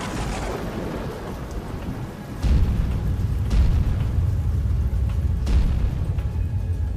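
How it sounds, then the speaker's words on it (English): Thunderstorm with steady heavy rain throughout and a deep rumble of thunder rolling in partway, swelling the low roar, with a few sharper cracks later; no voices. "The sky was thundering and lightning"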